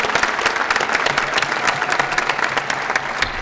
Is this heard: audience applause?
yes